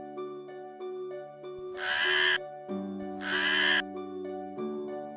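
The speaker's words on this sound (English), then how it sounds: "Crow." A crow gives two harsh, raspy caws, loud and near, spaced about a second apart over a melodic music backing.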